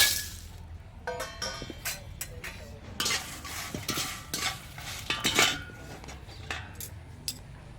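Green chilies roasting and being stirred in a pan over a wood-fired village stove give off a steady sizzle broken by frequent scraping and clinking strokes, close up, with no talking.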